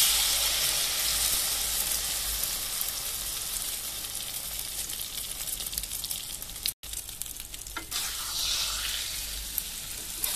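Eggs fry in hot leftover oil in a pan over high heat for a tomato omelette, making a steady, loud, crackling sizzle that briefly cuts out before continuing.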